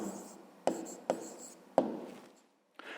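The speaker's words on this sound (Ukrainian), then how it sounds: "Записуємо відповідь." Pen writing out a math exercise answer by hand: a few short scratching strokes separated by brief pauses, close and quiet, with no talking.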